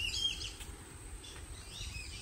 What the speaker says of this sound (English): A lot of black-bellied whistling ducks making noise and flying